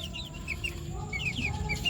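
A hen clucks in quick, rising bursts close by, a short run of throaty calls over a faint farmyard background.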